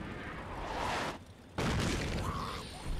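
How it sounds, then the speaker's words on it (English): A cannon fires in the video game Fallout 76: a single loud, heavy boom breaks in after a brief lull and is surrounded by dense game noise. "we hear a cannon go off."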